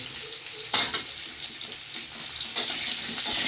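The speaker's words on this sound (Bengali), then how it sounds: "সুন্দর আমি কুমড়োগুলো দেখো একটু হালকা করে ভেজে নিয়েছি" Pumpkin pieces fry lightly in a pan with a steady soft sizzle, broken by a few brief scraping stir bursts near the start and end, close and fairly quiet.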